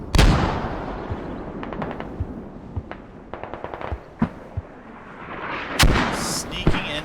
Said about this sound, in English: Mortars coming down on the hill.